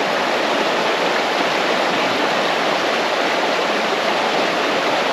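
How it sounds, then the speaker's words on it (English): Loud, constant rushing of a rain-swollen mountain creek near Maggie Valley, North Carolina, a dense unbroken hiss close by with no other sounds. "We've had some rains, and the creeks are really percolating."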